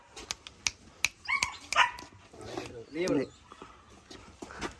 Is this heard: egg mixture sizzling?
no